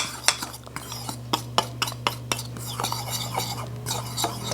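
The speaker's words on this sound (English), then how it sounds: "take the cinnamon and the flour and I'm gonna mix that together" A fork clinks rhythmically against a bowl while stirring cinnamon and flour together, a quick series of sharp taps, close and distinct.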